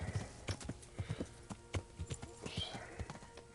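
Horse hooves clip-clop in the Kingdom Come Deliverance video game, an uneven run of soft, distinct thuds at moderate distance, fairly quiet with faint background sounds between steps.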